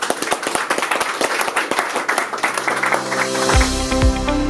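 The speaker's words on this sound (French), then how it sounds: "Encore sous vos applaudissements." Scattered audience clapping at an official ceremony for a new urban transport director swells into fuller applause, then gives way to a sustained musical tone near the end.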